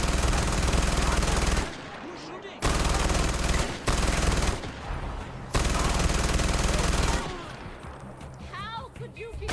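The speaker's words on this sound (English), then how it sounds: "Who's shooting at me?" Dense gunfire in Far Cry 4: sustained automatic bursts, loud and close, broken by short pauses and trailing into softer shots and ambient game noise.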